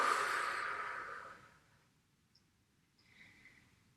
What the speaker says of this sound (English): Take a few deep breaths in